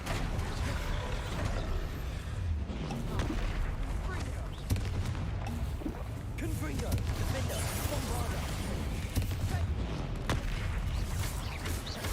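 Spell explosions from Bombarda and Confringo casts in Hogwarts Legacy, dense booming blasts and crackling impacts layered continuously over game music, with someone talking over the action.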